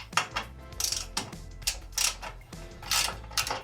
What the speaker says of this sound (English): Grab your ratchet and 8mm socket. We will be removing the original cowling off the bike.